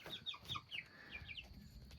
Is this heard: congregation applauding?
no